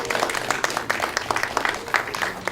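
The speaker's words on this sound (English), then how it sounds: "we're just applauding" A small audience applauds at a songwriters showcase with quick scattered claps over a short burst, moderately loud, with voices mixed in beneath.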